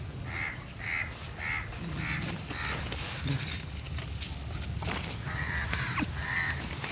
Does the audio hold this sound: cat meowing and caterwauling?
no